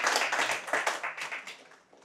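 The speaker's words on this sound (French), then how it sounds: "Applaudissez pour moi." Audience clapping during a French-language business training talk, a brisk burst of many hands that fades out over about two seconds, with no talking over it.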